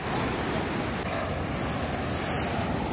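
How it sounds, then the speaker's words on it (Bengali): Ocean surf rolling onto Digha beach, a steady close roar of breaking waves mixed with wind buffeting, continuous throughout with no voices. "ঢেউটা দেখছো কেমন আসছে"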